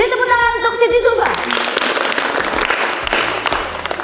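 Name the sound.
class applause for a student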